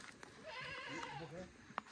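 Faint, hungry goat bleats, quavering and brief, in a quiet outdoor setting with a couple of soft clicks.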